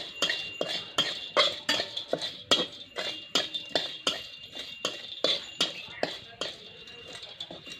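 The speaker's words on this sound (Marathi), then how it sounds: "आता मी विलायची पण थोडीशी गरम करून घेणार आहे" Cardamom roasting in a kadhai over a wood-fired chulha produces a brisk, regular clinking and scraping of a metal spoon against the pan, repeating roughly twice a second, close and clear.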